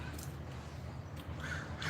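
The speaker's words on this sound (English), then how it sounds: "Mama Crow." A crow caws a few times, quiet and somewhat distant, over a low background hum.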